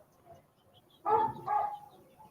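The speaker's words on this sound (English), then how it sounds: "The dog over there says hi." A dog barks nearby in two short, loud bursts against a quiet background.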